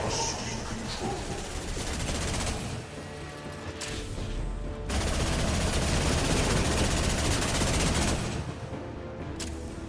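Heavy, continuous gunfire in Mass Effect 2 during the fight to stop the Collectors: dense automatic bursts and blasts fill the scene with a loud, unbroken barrage and brief dips between volleys.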